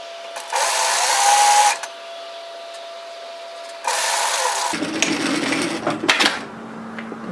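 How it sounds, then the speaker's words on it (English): A sewing machine stitches the side seams of a tiered dress at a 1 cm seam allowance in two short, close bursts of rapid whirring, followed by soft fabric handling and light clattering. "we're going to sew the side seams together at 1 centimeter, which is 3/8 of an inch"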